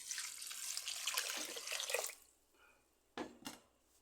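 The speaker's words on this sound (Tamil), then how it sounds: "தண்ணியை ஊற்றிக்கலாம்" Water pours steadily into a cooking pot of Tamil dal kuzhambu for about two seconds, then stops, followed by a couple of short splashes or clinks nearby; no talking.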